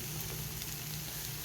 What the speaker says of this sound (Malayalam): ഇതിലേക്ക് നമ്മൾ മുട്ട മത്തീൻ്റെ മുട്ട ഇടുക